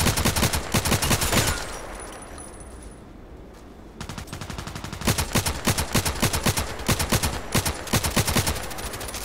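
Rapid automatic gunfire in the shooter game Contract Wars, loud close bursts of fast repeated shots that stop for about two seconds of quieter ambience, then resume in a long steady stream.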